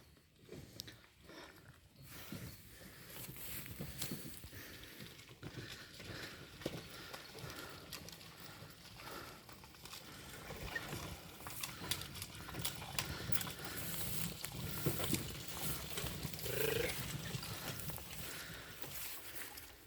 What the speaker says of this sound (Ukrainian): Такі у Дмитра є кобили на продажу